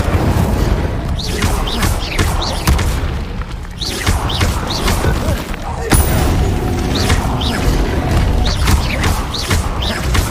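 Incendio fire spell in the video game Hogwarts Legacy, cast repeatedly in combat alongside other spells: a steady roaring, crackling blaze with booms and mechanical clanks, loud and continuous throughout.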